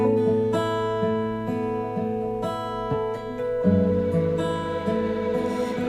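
A guitar plays a chord melody in A, with steady sustained chords and melodic notes moving on top, continuous and close with no voices.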